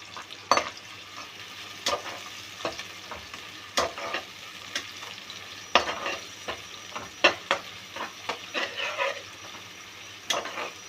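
Green chillies fry in hot oil in a pan for a chicken curry, a low steady sizzle broken by sharp scrapes and clicks of a stirring spoon against the pan, close and without talk.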